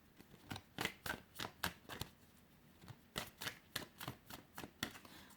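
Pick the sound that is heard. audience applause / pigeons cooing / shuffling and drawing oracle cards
shuffling and drawing oracle cards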